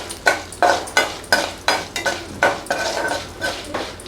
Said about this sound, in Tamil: அதுக்காக தான் தனித்தனியாக வறுத்து எடுத்துக்கிறேன்.